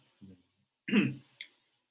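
A short throat clearing followed by a rough cough, then a brief breathy catch, close to the microphone with quiet in between.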